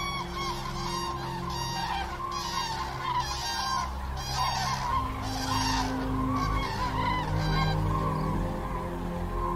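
A large flock of cranes calling at sunrise as they leave for the south on the German coast, a continuous chorus of overlapping bugling honks, near and fairly loud, with no talking.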